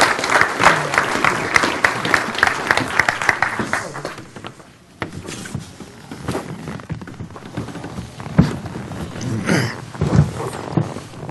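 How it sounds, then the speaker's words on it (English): Audience applause at a crowdfunding panel event as panelists take their seats, a steady clapping crowd that thins out midway, with scattered voices talking over the fading claps. "give them a big round of applause as they take their seats"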